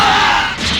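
A character in the video game Dragon Ball Xenoverse 2 lets out a short, strained grunt, loud and close, over bright game effects.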